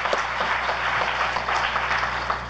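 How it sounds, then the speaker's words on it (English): A general-session audience at a 4-H conference applauds, a steady wash of many hands clapping with a few sharper claps standing out, holding at an even level throughout with no talking. "let's give her an applause"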